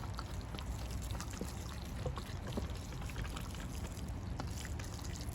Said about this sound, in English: So I'll just water it in.